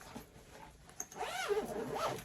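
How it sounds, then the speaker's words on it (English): Luggage compartment being zipped shut while packing, a few quick rasping zipper pulls close to the mic with no talking. "And then I can zipper this part up."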